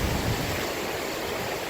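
Ocean waves on a beach on the US east coast, a steady loud wash of surf with no voices.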